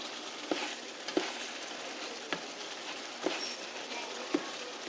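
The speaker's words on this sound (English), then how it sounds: "I'm grinding the beef and I put the taco seasoning mix in there" Seasoned ground beef with taco seasoning mix frying steadily in a pan, a continuous soft sizzle with a few sharp clicks or taps of a utensil spaced through it, no talking.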